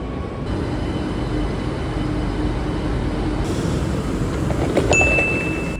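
A Barcelona metro Line 12 shuttle train runs with a steady, loud rumble and hiss of wheels on track inside a nearly empty car. A brief high electronic tone enters near the end.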